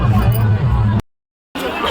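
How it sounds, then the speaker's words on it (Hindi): Dense crowd hubbub at the Pithoragarh fair, loud and close, with many overlapping voices forming a babble that breaks off briefly before resuming. "भीड़ कितनी हो रही है"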